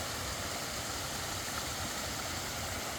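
Creek water rushes steadily along a stream on the Appalachian Trail, a constant broadband hiss of flowing water that stays even and fills the whole scene.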